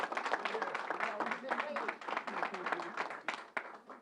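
Church audience applauding the New York governor at a vaccination event, a dense continuous patter of clapping with a voice talking through it, fairly faint.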